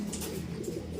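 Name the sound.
pigeon cooing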